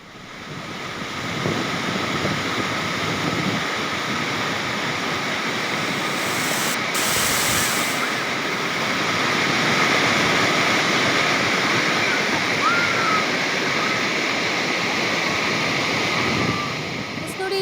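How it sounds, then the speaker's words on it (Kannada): The Krishna River rushes and roars steadily, a continuous broad wash of flowing water with no voices. "ಇದರಿಂದ ನೀರು ಹರಿದು ಬರ್ತಾ ಇದೆ."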